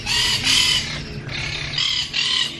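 Loud parrots screech in a pet store, harsh piercing calls that come in repeated bursts close to the listener and drown out everything else.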